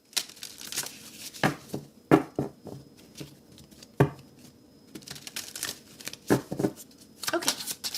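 Cards are shuffled in quick riffling bursts and sharp snaps, close up, with pauses between shuffles and a voice speaking quietly in between.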